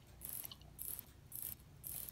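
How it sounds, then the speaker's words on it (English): A Seiko SKX007 watch movement being wound by hand, four quiet, evenly spaced bursts of fine ratcheting clicks heard up close. "I'm going to continue to wind this"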